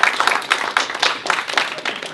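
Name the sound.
round of applause from audience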